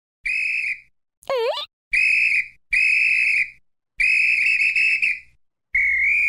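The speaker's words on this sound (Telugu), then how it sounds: "విజిల్ ఎన్నాళ్ళైందో విజిల్ చూసి." A toy whistle blown in five loud shrill blasts of about half a second to a second each, with one quick rising-and-falling swoop between the first two, alone with no talk.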